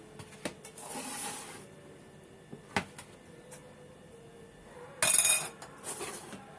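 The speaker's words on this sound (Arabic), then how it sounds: "هنجيب بقى الصينيه بتاعتنا" A metal baking tray for kunafa clatters and clinks as it is handled in a home kitchen, with a few sharp knocks and a louder rattling scrape near the end, heard alone at moderate volume.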